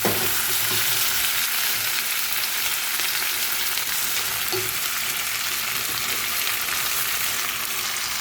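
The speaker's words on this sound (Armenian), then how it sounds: "Միսը ես նախապես կարմրացնում եմ, հետո նոր ավելացնում եմ կարտոֆիլը, որպեսզի կարտոֆիլի այսպես հյութի մեջ միսը լավ եփվի։" Meat and potatoes fry in a pan, a loud, steady sizzle close by with occasional stirring clicks and no talking.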